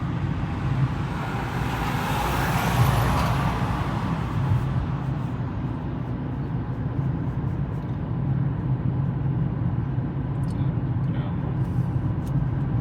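A car driving along city roads during a driving lesson, its engine and tyre rumble forming a steady, close, low drone throughout, with possible faint voices inside the cabin.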